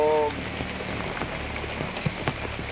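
Rain falls in a rural village setting as a soft, steady patter with scattered drops. A brief tone opens the sound.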